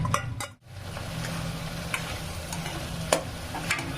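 Spicy chicken curry is stirred in a pan, a low sizzle running underneath while a spoon scrapes and taps the pan now and then, close and moderately quiet.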